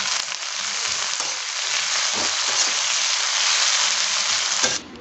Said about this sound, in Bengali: আগে থেকেই কেটে রাখা পেঁয়াজ, রসুন, আদা গুলিকে তেলের মধ্যে দিয়ে হালকা একটু ভেজে নিতে হবে